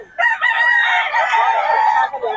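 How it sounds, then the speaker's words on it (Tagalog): A banded gamecock at a Bocaue market crows once, loud and close, a single drawn-out call lasting about two seconds. "puro solid ang mga manok ni Boss Albert, mga banded."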